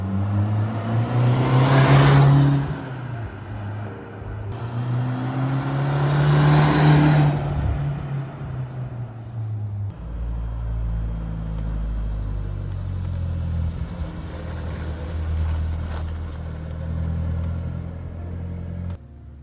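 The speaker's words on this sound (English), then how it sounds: "it was time to get the car outside and take it for a quick test drive up and down the estate" A modified 2021 Suzuki Jimny idles and drives around a housing estate: two swelling engine revs in the first half, then a steady low rumble as it rolls on. No one speaks.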